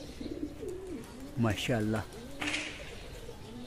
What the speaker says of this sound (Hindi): कबूतर की लैंडिंग चेक करें ज़रा माशाल्लाह से कैसे बैठ रहा है जी